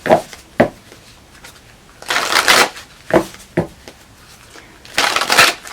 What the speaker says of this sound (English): let's pull you an Angels and Ancestors Oracle card